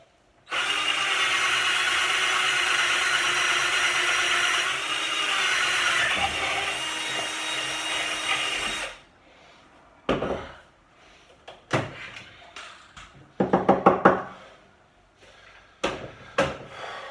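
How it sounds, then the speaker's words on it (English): A power drill bores holes in wood while building a dining table: a steady, loud whine runs for about eight seconds, then stops, followed by scattered knocks, clatter and short bursts of handling noise. "Now that these holes are drilled"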